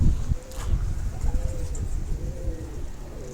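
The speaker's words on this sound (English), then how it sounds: "More doves. We got like 4 or 5 kinds of doves." Doves coo softly in a few repeated low calls, faint and somewhat distant, over light outdoor background rustle.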